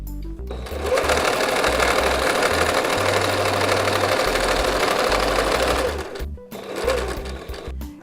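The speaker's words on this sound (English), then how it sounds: "We're going to edge stitch around the pocket, but do not sew across the top." Close and loud, a sewing machine edge-stitches around an apron pocket, a continuous whirring run of about five seconds followed by a short stop and a brief second burst.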